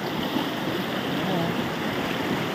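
River rapids roar in a dense, continuous wash of rushing water, loud and close. Wind buffets the microphone throughout.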